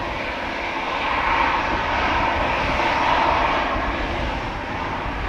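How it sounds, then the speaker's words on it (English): A 28-year-old Swiss Airbus A320 bound for Zurich roars at Amsterdam Schiphol, its engines giving a steady, strong broadband rumble that swells slightly and then eases. "Swiss flight 725 to Zurich. A320, 28 years old."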